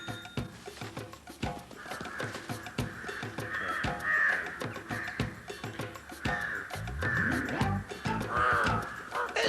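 Crows caw repeatedly in harsh, rhythmic calls, several birds near and loud over a busy background of rustling and other sounds.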